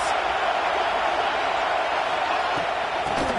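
A football stadium crowd roars steadily behind the LSU defense on a big third down in the red zone, a loud, continuous wash of cheering noise from the stands that holds throughout.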